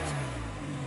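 A car engine revving briefly, a low steady rumble rising slightly in pitch, close by with no talking.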